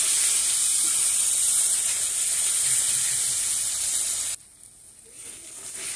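Spices and dry chili powder stir-fried in a karahi for spicy tilapia masala hiss with a steady, bright sizzle that cuts off abruptly, leaving a quieter low sizzle with no voices.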